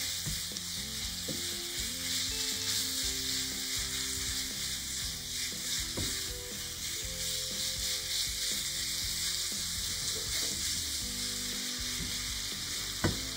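Minced meat frying in an uncovered pan while it is stirred gently, a continuous loud sizzle with scraping and stirring noises, close by and free of speech.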